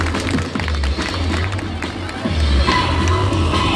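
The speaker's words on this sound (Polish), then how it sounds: "Brawa, duże brawa, motocykliści w Globusie Śmierci." Sustained audience applause and crowd noise for motorcyclists riding inside a Globe of Death at a stunt show, a dense steady wash of clapping over a low motor hum.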